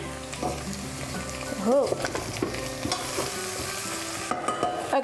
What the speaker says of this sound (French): Je vais juste le mélanger.